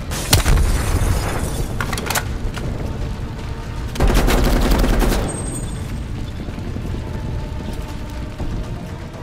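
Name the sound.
enemy gun turret firing in video game Call of Duty: Black Ops Cold War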